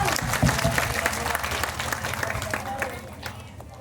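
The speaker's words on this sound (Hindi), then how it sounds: "जोरदार तालियां" Steady audience applause at a Tulsi Pujan religious event, a dense patter of many hands clapping, with voices talking over it, fairly quiet throughout.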